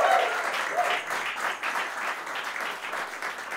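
Applause for carnival association members at a carnival café gathering, a dense sustained clapping from a crowd that holds steady throughout at a fairly loud level.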